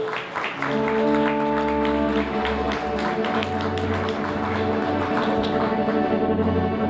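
Clapping from the audience at a Christmas carol concert in Dărmănești as children walk down from the stage, steady applause under sustained musical tones and a low hum.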